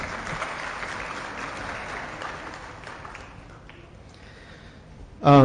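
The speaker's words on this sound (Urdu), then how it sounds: "میں گزارش کروں گا کہ ان تمام آرگنائزرز کے لیے ایک آپ لوگ تالیاں ضرور بجا دیں" An audience claps for event organizers at a talk, a moderate, diffuse patter of applause that thins out toward the end before a brief loud burst cuts in at the close.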